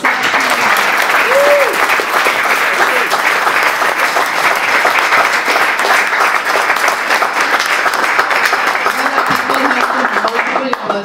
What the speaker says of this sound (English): can I please have a round of applause for our team, Ms. Ao.